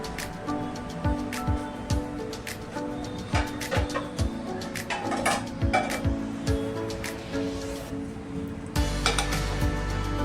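A non-stick frying pan is handled on the stove and set to heat, giving scattered metallic clinks and knocks, with a steady sizzling hiss rising near the end.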